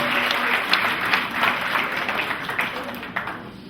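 Wedding guests applaud steadily through a civil marriage ceremony led by a mayor, the claps dense and continuous from start to finish, with faint voices underneath.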